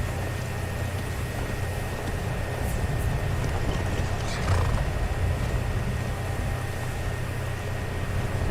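A horse in the video game Skyrim whinnies and snorts over a steady ambient game background, with the neigh rising briefly near the middle of the stretch.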